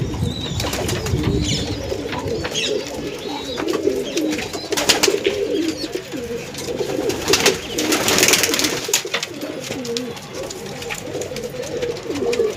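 Pigeons coo in a repeated, rolling rhythm close by, a returned female together with her male mate, the soft calls steady throughout against light background noise.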